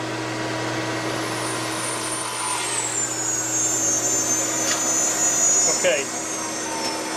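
A vacuum dust collection setup on a bandsaw runs throughout as a steady, loud, whining drone with a slowly shifting pitch; someone briefly speaks over it.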